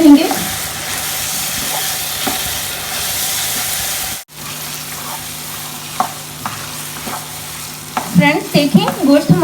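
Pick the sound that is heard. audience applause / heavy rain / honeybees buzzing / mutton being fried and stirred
mutton being fried and stirred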